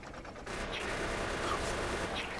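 Rapid gunfire shooting at biters in Factorio, a dense continuous rattle of shots, loud and close, running for the whole stretch without pause.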